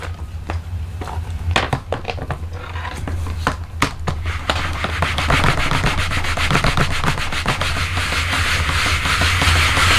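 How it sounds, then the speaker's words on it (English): Rubber stamp rubbed back and forth on a microfiber towel, a soft continuous scrubbing interrupted by a few taps early on, then growing steadier and slightly louder. "Normally I wouldn't have to wipe these back on a microfiber towel."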